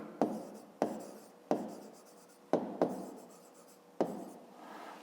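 A pen writes on paper in short bursts, scratchy strokes separated by brief pauses, close and fairly quiet, as numbers are jotted down for a math exercise.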